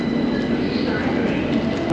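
Train noise at a UK railway station on the way to Luton: a steady, loud rumble of rolling rail cars running continuously throughout, with no distinct speech on top.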